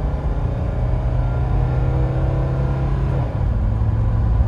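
A 1984 Mercedes W123 300TD with a small turbo engine held at full throttle gives a steady, loud, low diesel drone that shifts pitch slightly near the end, with no talking over it.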